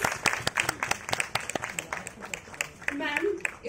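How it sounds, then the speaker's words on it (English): An audience applauds at a public lecture at the National Museum: dense, rapid clapping from a crowd in a hall, steady for a few seconds. "A round of applause, please."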